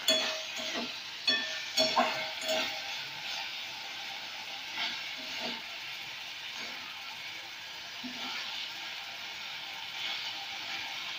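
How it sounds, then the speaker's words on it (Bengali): A sweet and sour egg dish cooks over a high flame, a continuous close sizzle with a few bursts of stirring and pan knocks early on, then steady frying hiss with only occasional light stirs. "এবং একটু মাঝে মাঝে নাড়িয়ে দেবো।"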